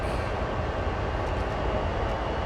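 A CSX freight locomotive throttling up in Train Sim World's heavy-haul run on the Hyndman line, heard as a steady, low engine rumble droning on evenly with no talk.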